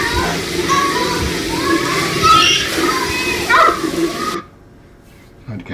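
Water splashing over a person being drenched, heard as sloshing and spraying under excited children's voices and chatter, then cutting off abruptly to near silence.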